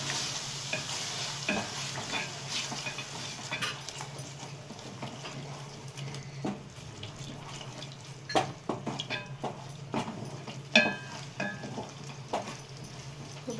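Chicken leg curry stirred and mixed in a pan on the stove, with steady scraping and clinking of a spoon against the pan under a soft sizzle, sharper knocks scattered throughout and no talking.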